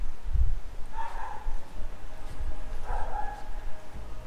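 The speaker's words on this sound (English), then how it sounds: "if the dog keeps it up, I'm probably going to get called by my father-in-law to go check out what he's barking at" Two muffled dog barks sound in the room, a couple of seconds apart, each short and moderately loud over a low rumbling background.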